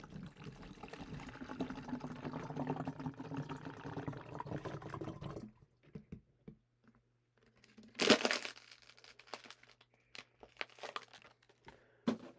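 Plastic water bottles crinkle and water pours steadily into a jug for several seconds, then the pouring stops and a few scattered clicks and one louder crackle of plastic follow, all close and with no talk.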